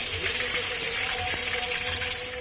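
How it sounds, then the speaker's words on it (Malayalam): Water gushes steadily into a fish tank, a continuous, even rushing and filling sound that holds at the same level throughout, with no pauses. "ഇനി നമ്മൾ വെള്ളം കയറ്റി ഇടുവാണ് കേട്ടോ"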